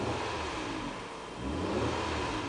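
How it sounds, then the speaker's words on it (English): A 2010 Nissan Maxima SV engine revs up steadily, a continuous mid-pitched roar that dips briefly and then climbs again, close and fairly loud. "I'm going to rev the engine."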